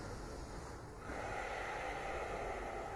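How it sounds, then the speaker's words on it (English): Slow, soft breathing during a yoga pose, a long airy exhale followed by a sustained inhale, close and quiet with no other sounds. "just taking a few inhales and exhales here"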